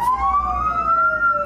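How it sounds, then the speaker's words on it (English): A police car siren in a driving simulator rises in a loud, sustained electronic wail that climbs steadily in pitch, close and alone. "You start the car, turn on the lights and sirens, and move out."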